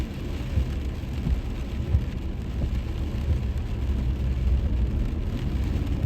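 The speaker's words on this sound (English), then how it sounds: "So it's still raining." Steady rain falls in wet weather, a constant close hiss of drops hitting the ground and surfaces, with a faint low rumble underneath and no one speaking.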